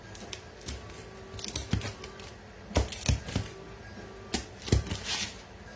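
A crispy prosciutto pizza on a semolina whole wheat crust is cut, giving a series of sharp, close crackling crunches in irregular bursts over a quiet room.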